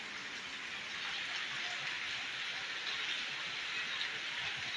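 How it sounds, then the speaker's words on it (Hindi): Steady rain falling, a dense, even hiss of drops that stays constant throughout, moderately close with no distinct individual impacts and no talking. "बारिश"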